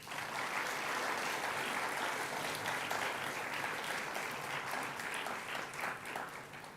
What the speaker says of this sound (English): May we please have a round of applause for these people.